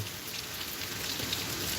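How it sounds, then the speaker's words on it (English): Rain drips and patters steadily off an old building, a soft, even hiss of drops on surfaces heard alone and fairly faint. "Watching this rain. I know y'all hear the rain."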